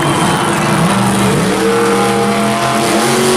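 Monster trucks racing at a Monster Jam event in Anaheim, including Grave Digger, with loud continuous engine roar and rising revs, a dense arena din throughout with no talking.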